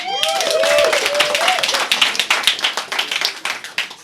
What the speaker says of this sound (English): How about a hand of applause for the incredible Stephanie?